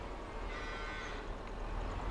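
Cows low on a farm in the Farming Simulator 22 video game, a steady dense bed of mooing and livestock noise running throughout at moderate level, with no talking.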